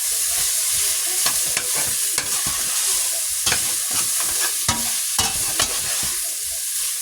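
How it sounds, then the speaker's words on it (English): Food browns in a hot pan with a loud, steady sizzle, punctuated by frequent scraping and stirring strokes, close and continuous without talk. "Now the browning starts."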